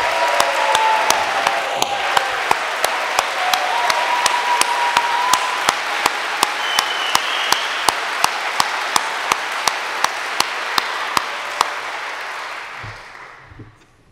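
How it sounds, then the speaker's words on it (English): Sustained audience applause from a crowd honoring the Sounds of Blackness, with sharp, steady rhythmic claps cutting through dense clapping, fading out near the end. "was that applause on the one and the three?"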